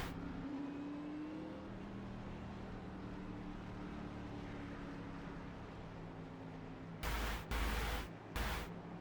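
A GRT Chevrolet Camaro race car in iRacing at Dover runs with a steady engine drone that holds throughout, joined near the end by several loud bursts of harsh noise.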